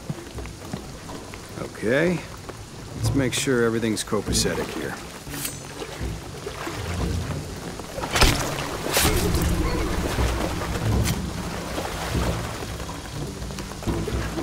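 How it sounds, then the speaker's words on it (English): Steady game rain from Shadow of the Tomb Raider pours over a beach, a continuous hiss running beneath a man's short spoken lines, with sharper splashes and bursts breaking through midway. "the rain is gonna flood the beach"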